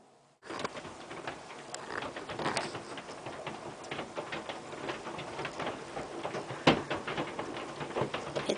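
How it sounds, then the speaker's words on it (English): Hail falls outside a window during a thunderstorm, a dense, steady patter of small hard hits with occasional sharper, louder strikes, no voices. "It's hailing big time."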